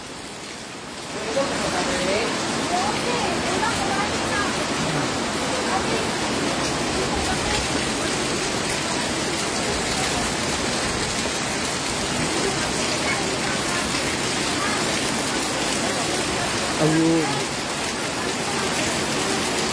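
Heavy rain pours steadily and loudly for the whole stretch, a dense hiss of drops, with a brief voice heard near the end.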